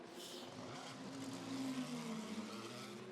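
A GRM endurance race car engine at the 2012 6 Hours of Silverstone, heard from a distance as it leaves the pit lane, a faint rising and falling drone under a steady background.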